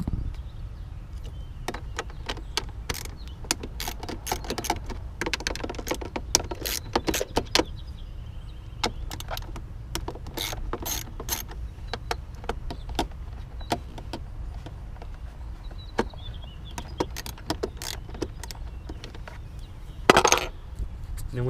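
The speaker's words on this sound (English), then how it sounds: "the 10mm is going to take away 1, 2, 3, and 4 of the mass airflow sensor bolts" Metallic clicks and taps from a 10mm socket wrench working bolts loose on a Subaru SVX mass airflow sensor, scattered sharp ratchet ticks and clinks in an otherwise quiet space, with a louder clatter near the end.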